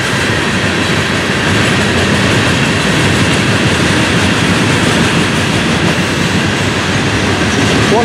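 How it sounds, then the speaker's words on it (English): A Florida East Coast freight train rolls past close by, a loud steady roar of wagons with rhythmic clickety-clack from the wheels throughout, with no voices. "Oh, what a train they got today."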